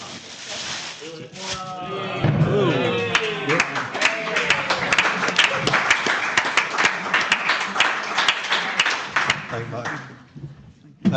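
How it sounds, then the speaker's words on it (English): Crowd applauding and cheering at a Board of Deputies plenary meeting, voices calling out at first, then a sustained patter of many clapping hands that fades toward the end. "I hear the crowd. I hear the cries."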